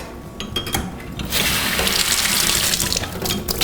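A baby bottle is rinsed under a running kitchen tap after sterilizing, with steady splashing water that swells louder midway and keeps flowing to the end, close and continuous with no talk over it.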